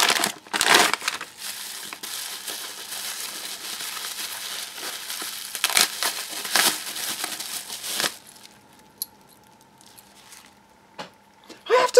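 Mail packaging being handled and unwrapped, with close, loud crinkling and crushing of wrapping for about eight seconds, then quieter scattered rustles and a brief crackle at the end.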